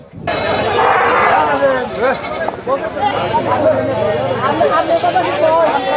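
Several goats bleat loudly and repeatedly at close range at a goat sale, their wavering cries overlapping, while people talk in the background.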